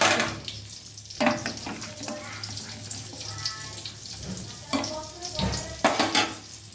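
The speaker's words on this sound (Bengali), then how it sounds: "এই যে কপি আর আলু কাটা আছে, আলু কপিটা ভাজা করব।" Cut cauliflower and potato fry in a pan, making a loud, close sizzle with bursts of crackling and stirring clatter rising and falling; a voice can be heard at moments under the frying.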